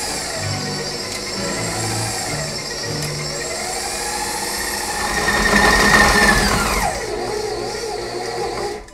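An electric mixer with a paddle whirs steadily through gluten-free Oreo cookie dough of flour, cocoa and salt. The motor hums loud and close, swells in the middle, then winds down and stops at the end.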